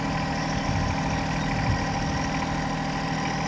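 A John Deere 1025R compact tractor idling in a vegetable garden, a steady, even engine drone held at constant volume from nearby, with no talk.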